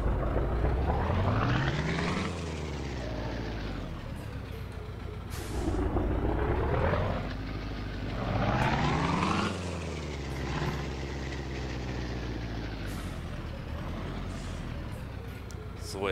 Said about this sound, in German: Dann werde ich mal die Klappe halten und starte den Motor.